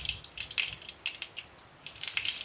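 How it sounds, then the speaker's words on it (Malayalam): Cooked jackfruit being mashed in a pan, a series of soft, squelchy crushing strokes in uneven bursts, close and fairly quiet with no talking. "ഈ ചക്ക നമുക്ക് നന്നായിട്ട് ഒന്ന് ഉടച്ചെടുക്കാം"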